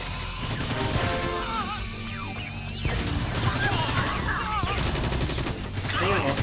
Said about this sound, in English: Readying mortar for targets.